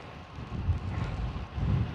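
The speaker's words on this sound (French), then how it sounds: "Il repleut à fond. Voilà. C'est juste pour dire ça. Le vent, la pluie" Wind and heavy rain buffeting a microphone at night while cycling, a steady rough rumble swelling in gusts around the middle and end, loud and close with no voices.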